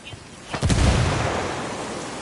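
Grenade explosion in the shooter game Ghost Recon Wildlands, a sudden loud blast about half a second in that rumbles and decays through the rest of the moment.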